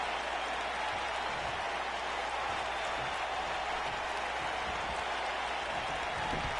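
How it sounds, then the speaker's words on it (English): Wrestling crowd at an APEX Wrestling event jeering a disliked wrestler: a continuous dense roar of voices and noise that fills the whole stretch, steady and loud with no pauses. "now listen to this crowd, they do not like Christian Tracy at all"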